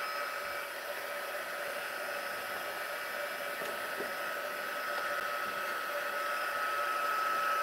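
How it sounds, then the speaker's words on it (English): A heat embossing tool blows continuously with a steady whooshing hiss and whine, close and even, no speech over it. "I'm going to bring in my little heat embossing thingy bob."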